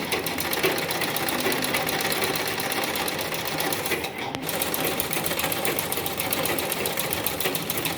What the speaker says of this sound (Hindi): अब हम ये आसन सिल रहे हैं।